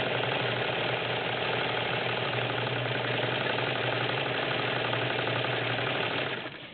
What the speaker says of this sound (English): Machine sews like a champ.